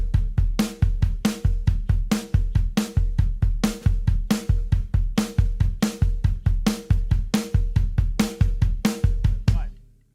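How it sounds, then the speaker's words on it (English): A drum kit plays a seven-note grouping on a triplet grid, with dense, rapid, evenly spaced kick, snare and cymbal strokes driving continuously at a loud, close level for about ten seconds before cutting off. "what if we were to take that grouping and place it on the triplet grid?"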